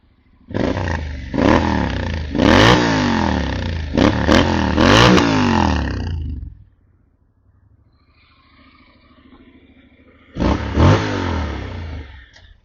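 A 2019 Honda X-ADV 750 twin-cylinder motorcycle with an Akrapovic exhaust idles and revs hard several times, a loud burbling exhaust with sharp throttle blips, then a pause and one more rev.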